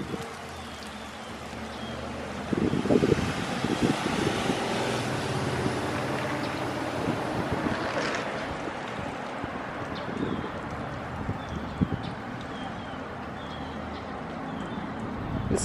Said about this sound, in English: Careful, it is windy out here.